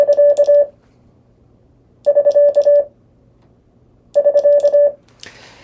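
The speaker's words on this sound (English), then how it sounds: "So next prosign, SK." The Morse code prosign SK is sent as a clear, loud CW tone, repeated three times in identical bursts of short and long beeps separated by pauses, ending with a brief rustle.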